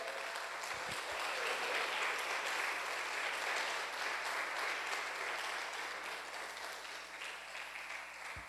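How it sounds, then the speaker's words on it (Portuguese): A church congregation applauds together in a sustained, steady burst of clapping that fills the room, loud and continuous, easing off slightly toward the end. "Aplaudam a Ele."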